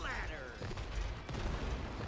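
Rapid gunfire from a shooting sequence in the video game It Takes Two, with dense bursts of shots running throughout the short stretch while a voice talks over it.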